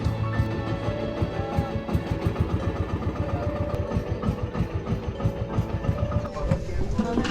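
A boat motor chugs steadily on an underground river tour in the Philippines, a close, throbbing idle-like putter with a regular rapid pulse, running continuously and fairly loud.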